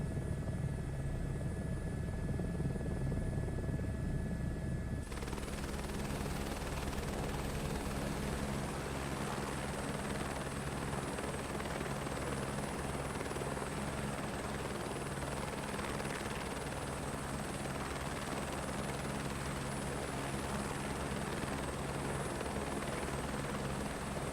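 An Airbus H225 helicopter in a flight simulator drones with a continuous rotor and turbine roar, loud and unbroken throughout, shifting to a slightly different engine tone after the first few seconds.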